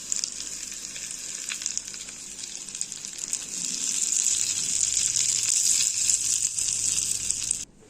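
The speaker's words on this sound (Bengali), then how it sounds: "এখন দিয়ে দিচ্ছি 1/2 কাপ পরিমাণ সয়াবিন তেল" Half a cup of hot soybean oil poured over chili powder, chili flakes and dry-toasted white sesame seeds for momo chili oil, crackling in a loud, steady high sizzle that builds midway and cuts off abruptly near the end.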